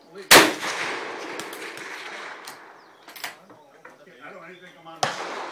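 An M&P15 rifle with a red dot sight fires at an outdoor gun range's 100-yard side, giving one loud sharp shot with a long echoing tail and a second shot near the end, with low talk between.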